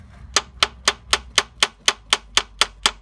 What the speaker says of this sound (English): I think an impact screwdriver would be the way to go here